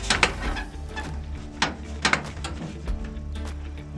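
Screws being driven into soffit and fascia on a shop building: a soft, steady mechanical whir of a driver with several sharp clicks and ratcheting snaps, fairly quiet and close.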